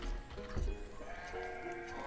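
Sheep in the city-building game Banished bleat softly, two or three short wavering calls in quick succession, faint and alone.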